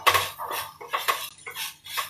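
A spoon stirring salted vegetables in a metal pot, a few quick clinking scrapes in an uneven rhythm, close and clear with no talk.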